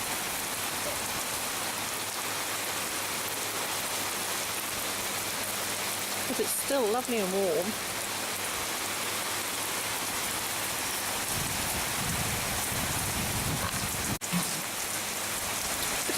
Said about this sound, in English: the rain has actually got quite a bit worse